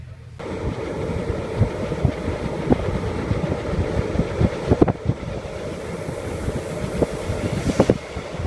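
A steady low rumble of a moving train between Brenner and Wörgl, with rhythmic clacks and occasional sharper knocks, continuous throughout, with no voices.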